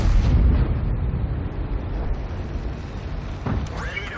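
A tank gun fires in World of Tanks, opening with a loud, low boom that rumbles away over a few seconds, followed by a brief metallic effect near the end.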